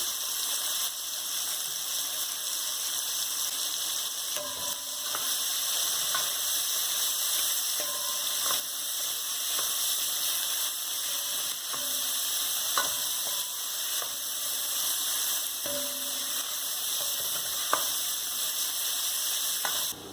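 Soy veggie chunks fry in a pot with thyme sprigs, a steady hissing sizzle with occasional stirring knocks and scrapes at moderate volume, no voices over it.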